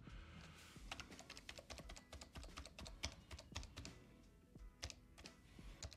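Rapid typing on a renewed computer keyboard to test the keys, a dense run of close, crisp key clicks and clacks over several seconds, fairly quiet with no talking.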